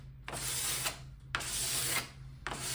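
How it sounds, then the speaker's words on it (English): A card scraper drawn across glued-up wood panel stock in three long, rasping strokes, each a steady scratchy hiss with short pauses between, close and fairly quiet. "now I'm going to take a card scraper to this and just take it down a little bit"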